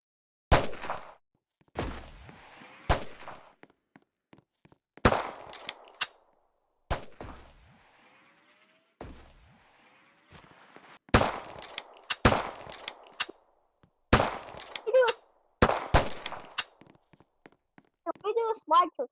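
Pistol gunshots in a pistol arena video game crack out as sharp, separate loud shots spaced irregularly through the stretch, sometimes in quick pairs, with people talking between them.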